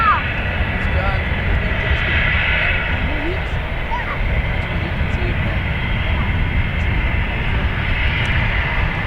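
A jet airliner's engines roar loudly and steadily at Dublin Airport, a broad continuous whine and rush close at hand, with voices heard over the noise.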